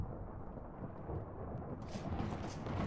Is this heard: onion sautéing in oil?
no